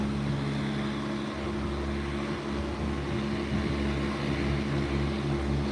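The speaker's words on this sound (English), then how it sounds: "The Airbus 319 out of Miami, Florida." An Airbus 319 from Miami, Florida gives a steady, broad engine roar with a low hum underneath, sustained and unchanging throughout, with no voices.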